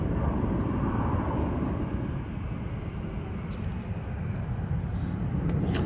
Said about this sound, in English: Logan Air making its way out.